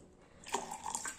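Water poured over freshly churned homemade butter to wash it, heard as a brief close splashing pour that starts partway through and trickles on for under a second.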